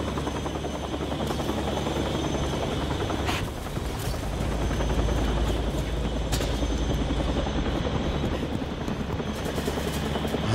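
Helicopter in the horror game Still Wakes the Deep, a loud steady rotor drone with heavy low rumble running throughout, joined by brief sharp bursts of noise.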